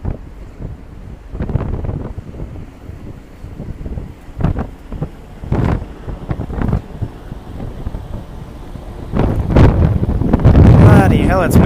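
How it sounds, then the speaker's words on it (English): Strong wind buffets the microphone on a train platform with gusty, roaring rumbles that rise and fall and build to a heavy blast near the end, loud and close. "Bloody hell, it's windy."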